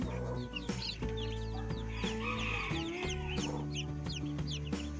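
Newly hatched chicks peep continuously in high, rapid chirps around a brooding hen in her nest, while the hen gives low, repeated clucks close by over a faint background hum.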